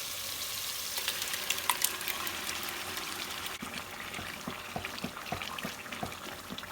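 Lentils tipped into a hot spiced tempering of green chillies, bay leaf, dried coriander, mace and nigella seed give a steady close sizzle and hiss with scattered crackles and a few sharper pops, with no voices.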